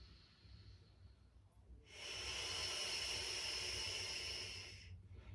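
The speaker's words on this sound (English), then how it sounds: "Can we take a couple more big breaths?" A deep, breathy exhale rushes out during a hamstring stretch, a steady broadband hiss lasting about three seconds that rises abruptly and then fades, heard close and alone over a low hum.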